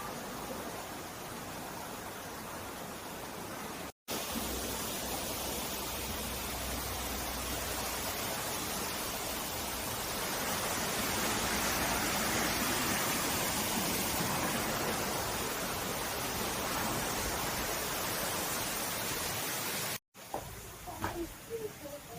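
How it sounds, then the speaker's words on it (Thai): A small stream flowing past a peacock enclosure in a Malaysian garden, a steady broadband rush of running water filling the whole stretch, briefly cut at two points. "ก็มีลำธารเล็กๆไหลผ่านนะครับ"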